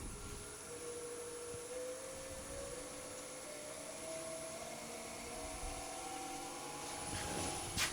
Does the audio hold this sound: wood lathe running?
yes